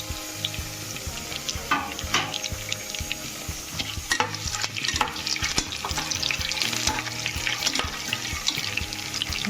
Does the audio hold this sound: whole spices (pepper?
yes